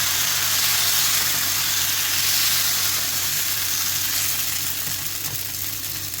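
Pumpkin dosa batter, a ladleful spread on a hot pan, sizzles with a steady, even hiss that holds for several seconds and eases slightly toward the end, close and with no talk.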